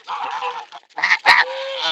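A pet goose honks loudly and close by in a few harsh, nasal calls, with a short pause between the first and second calls.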